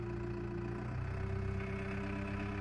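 A Farmtrac 6055 Worldmaxx 55 HP tractor engine runs at a steady low rumble, a continuous throbbing drone heard up close with no other sounds on top.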